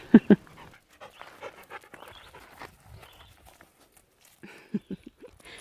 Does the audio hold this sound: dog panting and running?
yes